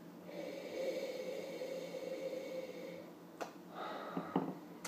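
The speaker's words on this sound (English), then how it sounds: "Let's give it a little sniff here." A long, soft nasal inhale sniffs a glass of French-oaked rosé wine up close, then a couple of shorter sniffs and faint glass or clothing sounds follow, with no speech.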